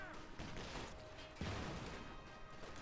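Battle in the strategy game Company of Heroes 2, with a dense rumbling wash of gunfire and explosions, a sharp blast near the middle, steady and loud without pause.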